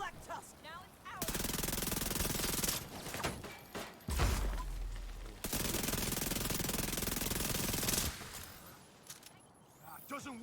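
Sustained bursts of automatic gunfire from the video game The Division 2, loud and dense over several seconds with brief gaps, mixed with shouted in-game voices.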